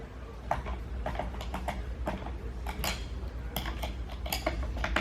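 A Yakima BaseLine roof rack tensioner gives a run of small, sharp plastic clicks at close range, fairly quiet and irregular, with no talking.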